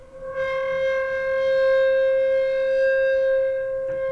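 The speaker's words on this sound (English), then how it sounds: "I recorded sounds with a piece of rubber on the lower strings. It makes this very high pitched resonant sound." Piano with a piece of rubber on its lower strings, producing a sustained high-pitched resonant tone rich in steady overtones, loud and continuous for about four seconds with no glissando.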